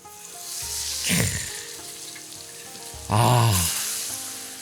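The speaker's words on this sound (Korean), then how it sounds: "이제 반죽 입혀서 기름에 넣습니다" Oil at 170–180°C erupts into loud crackling sizzles twice as battered squid pieces drop in, each burst fading into a steady bubbling hiss of deep frying.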